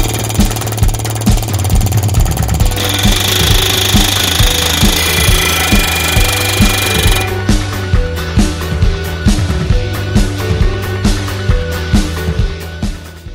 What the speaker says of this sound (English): Easiest way to remove a fan hub with an air hammer.